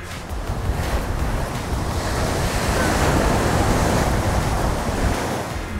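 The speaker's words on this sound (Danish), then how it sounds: "Ja, wow, nogle store bølger." Big sea waves break and wash along the shore in a steady, loud roar, with wind buffeting the microphone throughout.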